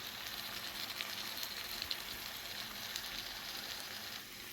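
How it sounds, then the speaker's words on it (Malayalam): Steady, soft sizzling of river crab masala with coriander, pepper and other ground spices being sautéed in a pan, a faint continuous fry with light crackles and no voices. "എല്ലാം കൂടെ നമുക്കൊന്ന് വഴറ്റിയെടുക്കാം നന്നായിട്ട്."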